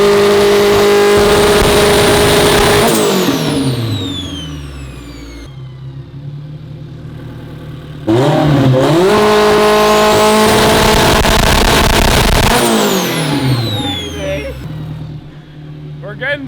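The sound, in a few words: AWD Honda Civic engine revving with anti-lag on street pulls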